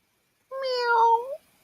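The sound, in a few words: person imitating a cat meowing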